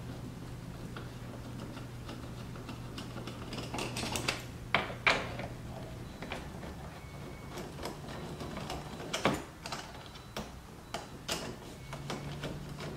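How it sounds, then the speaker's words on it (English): Two screws are removed from the rear diffuser of a car. There are faint, scattered ticking and clicking sounds from a tool and the fasteners, with several sharper clacks of handling, against a low hum. "we can go ahead and we can take our two screws out here"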